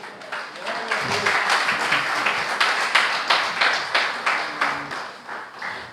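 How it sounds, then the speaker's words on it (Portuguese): A church congregation claps together in a steady, rhythmic beat that grows more even toward the end, with voices calling out over the clapping. "Você pode aplaudir o Senhor?"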